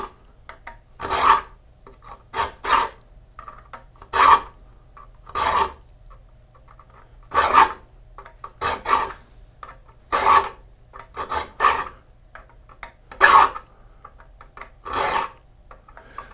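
A metal file rasps across the teeth of a hand saw being sharpened, in short, crisp strokes that come in irregular pairs and singles with brief pauses between, close and clear with no talking.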